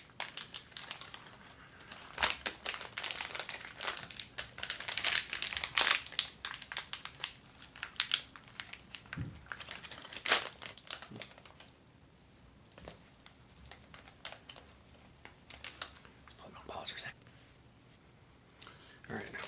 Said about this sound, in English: I went to tear the seal off, took the seal off, but I didn't actually break the seal